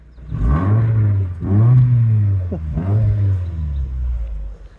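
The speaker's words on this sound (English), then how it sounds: "Let's rev it, Ran." A drift car engine with factory exhaust revs up three times in quick succession, each rise swelling and easing back, loud and close with a low rumbling idle between.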